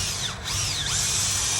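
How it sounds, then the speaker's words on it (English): A power drill whines steadily as it bores a tap hole into a maple tree, its loud, close pitch dipping and rising as the bit bites into the wood, with no talking. "About 1 3/4 inches, clean out the drill bit."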